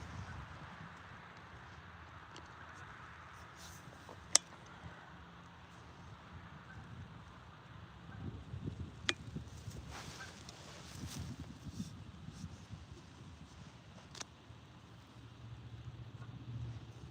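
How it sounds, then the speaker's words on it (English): Wind gusting across open water while fishing in Ontario, a steady low rumble and microphone buffeting that thickens after a few seconds, with a couple of sharp knocks breaking through. "Now that wind's picking up."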